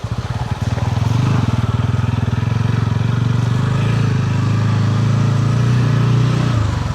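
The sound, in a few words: motorcycle straining on rough road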